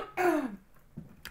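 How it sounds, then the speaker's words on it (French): A woman coughs and clears her throat once, a short, rough burst up close, followed by a faint second rasp after a pause. "Excusez-moi, je tousse."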